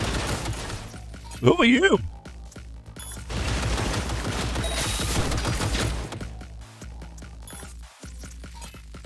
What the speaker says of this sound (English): Oh my god, a turret.